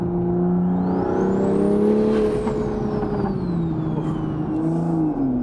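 A BMW with a tuned B58 turbocharged inline-six pulls hard in second gear, a steady close engine drone with rising pitch and a high turbo whine sweeping up, then easing off near the end, with no talking.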